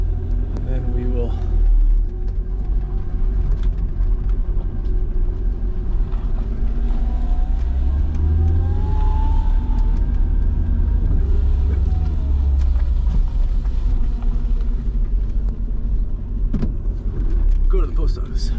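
Cabin sound of a Mercedes-AMG cruising: a continuous deep engine drone and road roar that swells slightly in the middle, with muffled voices at moments and a few small knocks near the end.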